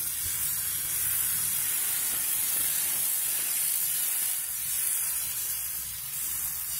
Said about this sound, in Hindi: इसमें मैंने वो आटे का घोल डाल दिया बर्तन में, और इसे से धीरे धीरे हम आराम से बनाते जाएंगे।